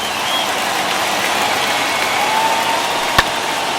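Stadium crowd of over 39,000 cheering on their feet during a World Series game in MLB The Show 21, a steady broad roar throughout with one sharp brief crack near the end.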